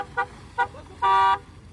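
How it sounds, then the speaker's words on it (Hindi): Car horn during off-road recovery of a Scorpio N 4x4: two short toots followed by one longer steady blast, loud and close. "हॉर्न बजेगा तब खींचना"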